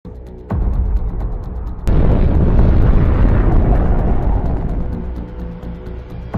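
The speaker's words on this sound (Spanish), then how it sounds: "La energía de la explosión se distribuye en un área más amplia." A sudden loud blast from the Fat Man plutonium bomb over Nagasaki erupts into a massive, sustained roaring rumble that slowly fades, preceded by a lower steady roar.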